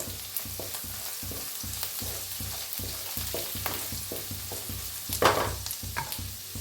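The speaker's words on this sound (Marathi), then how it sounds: "दादा हलवून भाजून घेऊया जरा" Steady sizzling and roasting in a pan while ingredients are stirred for kadhi pakoda, with rhythmic scraping strokes of a spoon and one sharper clatter near the end.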